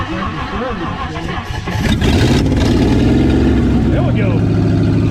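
A 1959 Ford Galaxie Fairlane 500 with a 352 V8, not run in years, cranks and catches, then settles into a loud, rough, steady idle up close, with someone speaking over it.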